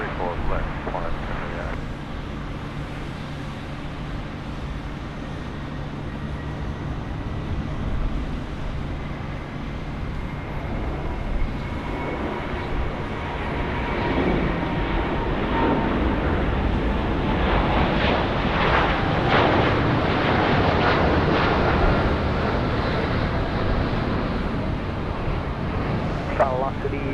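A Qantas airliner landing on runway 34 left at Sydney Airport, a broad steady roar of engines and rushing air that swells louder in the second half, heard from a distance with wind buffeting the microphone.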